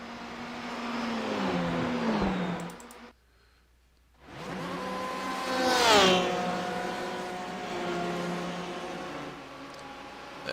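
A race car in a Le Mans endurance race in a racing video game: loud engine whine shifting pitch, a brief near-silent gap, then a rising rev sweeping past before settling into a steady drone.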